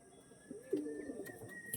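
A single soft, low coo from an Andhra pigeon rises and trails off, faint and close, with no talking.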